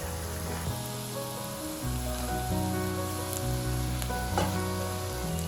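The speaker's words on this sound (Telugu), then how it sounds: "చూసారుగా ఇలా ఫ్రై అవ్వాలి, ఇంకొంచెం ఫ్రై అవ్వాలండి" Food crackles and sizzles steadily in hot oil, deep-frying until crisp and reddish, a close, continuous frying hiss with a low hum underneath and occasional sharper pops.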